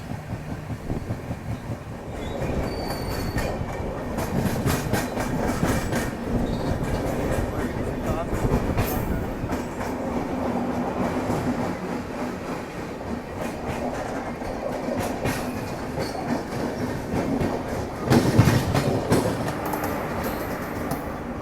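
The Dibrugarh Rajdhani Express runs on its rails as it nears Bareilly station, with a steady rolling rumble and rhythmic clickety-clack of the wheels. The sound is continuous and close, and it swells into a louder burst near the end.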